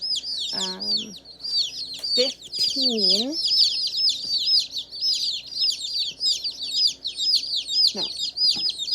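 A box of laying-breed and meat-breed chicks peeps continuously up close, shrill overlapping chirps with a few brief lower vocal sounds mixed in.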